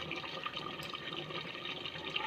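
Ghee pours in a thin liquid stream into chicken curry, a soft continuous trickle and splash close by with no talk.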